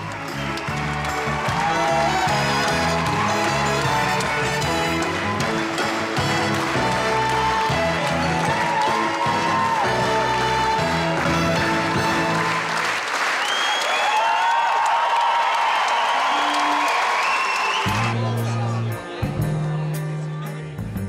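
A packed Amsterdam Carré theatre audience applauds the cast at a musical premiere, dense sustained clapping over loud music that fades midway, leaving near-continuous ovation before the music swells again.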